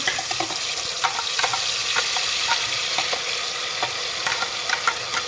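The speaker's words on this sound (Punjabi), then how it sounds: "ਹੁਣ ਆਪਣਾ ਤੇਲ ਹੋ ਗਿਆ ਗਰਮ ਤੇ ਹੁਣ ਆਪਾਂ ਇਹਦੇ ਵਿੱਚ ਪਾ ਦਵਾਂਗੇ ਪੇਸਟ" A paste being fried in hot oil for a homemade paneer dish: a continuous crackling sizzle with frequent small pops and spatters, close and steady, with no voices.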